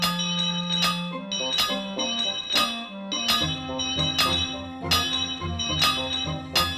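Cartoon train engine's bell clanging repeatedly in a steady rhythm, mixed with loud metallic banging and background music, fairly close and prominent.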